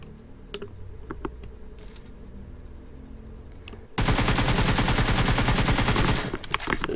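Automatic AKM rifle fire in PUBG Mobile, a loud continuous burst of rapid shots lasting about two seconds, preceded by faint clicks and mouse or keyboard taps, with no talk.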